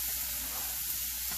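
Beans for chili con carne simmering in a pot give a steady, close, soft sizzling hiss with faint bubbling, continuous and even throughout.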